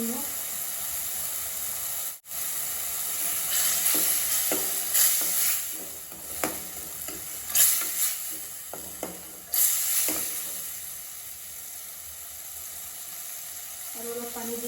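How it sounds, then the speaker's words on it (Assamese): Green chilli and salt fry in a pan with a little water while being stirred: steady sizzling hiss, with repeated scraping stir strokes and clinks near the middle, close and fairly loud. "আৰু অলপ পানী দি এতিয়া মই ভাজি লৈ আছোঁ।"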